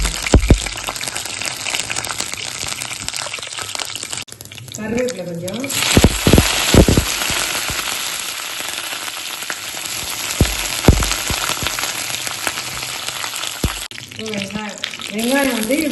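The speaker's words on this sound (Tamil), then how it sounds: "படப்படம் வெடிக்கும் நல்லா ஸ்மெல் கொடுக்கும்" Loud crackling and sizzling of spices frying in hot oil with popping bursts throughout, and a voice speaking briefly in the middle and near the end.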